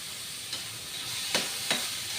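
Ground beef browning in a pan: a steady soft sizzle with a few sharp scraping stirs of a utensil, moderately close, no voices.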